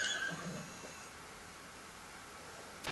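A horse in the Metal Gear Solid 3 video game gives a short whinny at the start, then fades into a quiet, steady background hiss.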